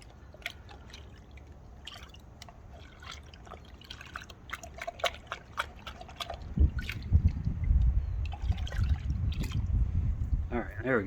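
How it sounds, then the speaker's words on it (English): Water rinses excess soap out of a Mother's Ultimate Hybrid car wash product. Soft trickling and dripping swell midway into a louder, steady rush of flowing water, with faint talk in the background. "Trying to get that excess soap out of there."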